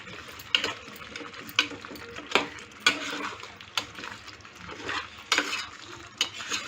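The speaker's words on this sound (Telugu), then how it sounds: "మళ్ళీ కాసేపు ఇట్లా కలబెట్టుకొని" Chicken curry being stirred in a pan, with a steady scraping and sizzle broken by sharp spoon knocks against the metal, close and fairly loud, with no talking.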